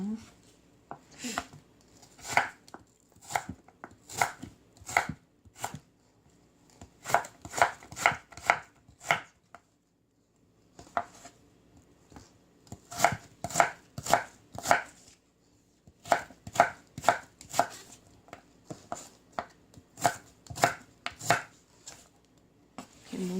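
A kitchen knife chopping radish and other ingredients for dried pollack soup, with rapid close bursts of sharp chops on a cutting board separated by brief pauses.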